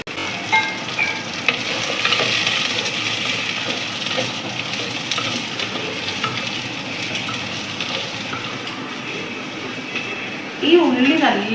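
Whole onions, garlic and curry leaves fry in oil in a pan with a steady, close sizzling hiss, brief stirring near the end.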